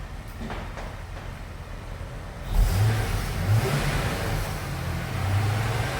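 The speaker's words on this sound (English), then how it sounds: "I'll give it a rev." A Holden VY Crewman ute with a very quiet aftermarket exhaust is revved, a low rumble swelling after a steady idle and settling again, with two brief rises toward the end; fairly subdued overall.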